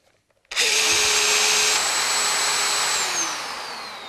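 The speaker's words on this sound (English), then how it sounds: "you can hear it runs on for a few seconds after you switch off to clear any dust that's remaining in the ducting" After a few faint clicks, the dust extraction motor of a Makita BHR243 rotary hammer starts abruptly with a loud, steady high-pitched whine, then winds down in pitch and fades slightly as it runs on.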